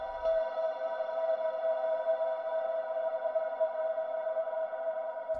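A sustained synth note run fully wet through Valhalla Room algorithmic reverb rings as a steady, dense harmonic tone with a smeared, washy tail, loud and alone with no talking.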